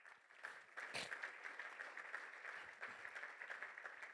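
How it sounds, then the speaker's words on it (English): A crowd at a referees' annual awards dinner applauds steadily for several seconds, dense clapping from many hands at a moderate, even level. "give yourself a round of applause"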